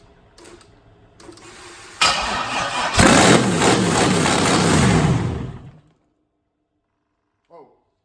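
An LS-swapped Chevy Square Body truck engine cranks briefly, then catches and roars up to high revs for a few seconds before cutting off abruptly, leaving near silence and a brief faint sound at the end.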